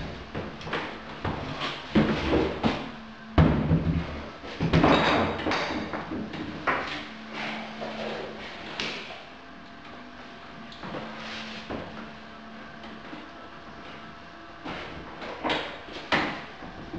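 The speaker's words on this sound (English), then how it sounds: "I'm going to put this door in. We're going to see how it fits." A hollow core interior door being fitted into its frame gives scattered thumps, knocks and light wooden bumps with brief scraping, irregular and close, separated by quieter pauses.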